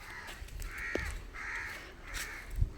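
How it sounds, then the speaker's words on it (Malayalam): Crows caw near a flock of backyard chickens, three or four drawn-out harsh calls spaced about half a second apart, fairly close and clear over a quiet outdoor background. "എൻ്റെ ഇടയിൽ കാക്കൊക്കെ വന്നിട്ടുണ്ട് ഗൈസ്."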